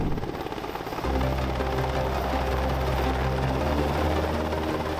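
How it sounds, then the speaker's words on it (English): A UH-60 Black Hawk military helicopter flying, a steady loud rotor and turbine drone with a low throbbing pulse that thickens after the first second and holds for several seconds with no talk. "The UH-60 Black Hawk helicopter, which was named after the Native American war leader of the Sauk tribe in the Midwest"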